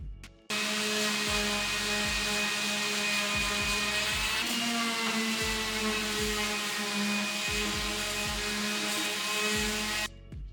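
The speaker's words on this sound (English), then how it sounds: "I can give it a good sand all over" A power sander works over a wooden whisky cabinet in a continuous loud whine that runs almost ten seconds, close by, with a faint knocking underneath as the tool moves across the wood, no voices.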